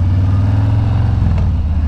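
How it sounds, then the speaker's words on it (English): Harley-Davidson Street Bob motorcycle running with a steady, loud low exhaust rumble, recorded from a helmet microphone while riding, with faint crackle and a brief pop near the end. "Oh, lovely popping off the exhaust."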